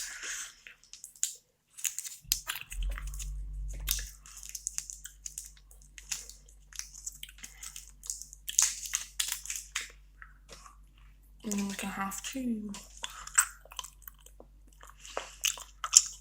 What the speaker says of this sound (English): I know a lot of people don't like gum chewing in videos because it puts them off.